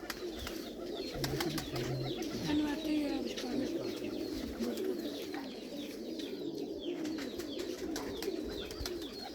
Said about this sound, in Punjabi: ਗੋਲਡਨ ਲੱਖਾ ਜਿਹਾ ਕਬੂਤਰ ਹੈ